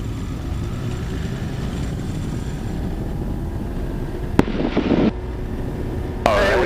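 A Pipistrel Alpha Trainer's engine roars at full throttle during the takeoff roll, a steady, loud drone heard from inside the cockpit, joined by a couple of sharp clicks and a brief hiss near the end.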